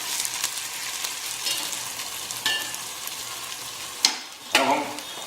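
Onions frying in a pan for mutton bhuna, softened and turned pink, give a steady low sizzle with a few sharper stirring scrapes near the end, close and fairly quiet.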